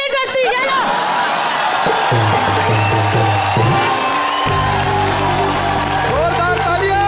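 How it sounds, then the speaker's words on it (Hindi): A studio audience at a comedy show bursts into loud, sustained applause with cheering and whoops, while a voice speaks over the crowd and music. "जोरदार तालियां"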